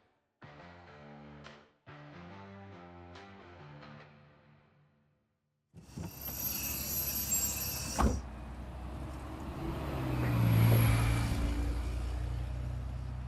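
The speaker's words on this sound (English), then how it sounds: "The next day, you take the bus to Kitsilano Arena." Bus ride ambience in an audio drama: a low engine rumble, rattling cabin noise and a brief high hiss set in after a stretch of music, building steadily louder across the scene.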